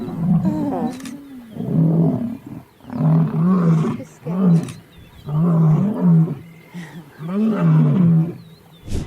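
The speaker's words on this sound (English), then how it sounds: "These lions belonging to a pride saw an exiled lion resting on their turf, so they decided to assert their dominance" Lions from a pride roar in the wild, a series of deep, loud, pulsing roars and grunts repeating in bursts with short pauses between them, close and dominant.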